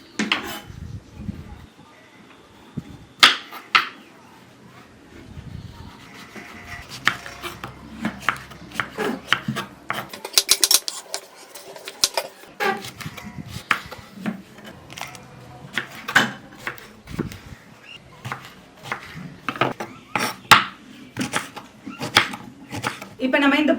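A knife cuts brinjal (eggplant) on a board, making repeated clicking and knocking chops with some scraping over most of the stretch, while a person talks.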